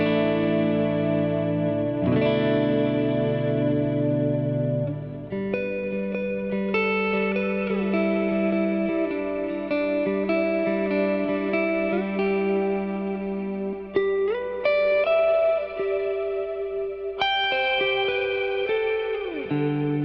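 An electric guitar runs through a cloud reverb pedal with the decay set to 4.6 seconds, playing sustained chords and single notes that ring and smear into a long, shimmering wash, with no one speaking.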